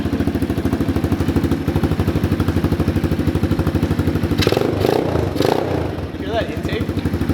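A cheap adult dirt bike bought on Amazon idles steadily up close, its small engine putting out an even, rapid putter. Voices talk over it near the end.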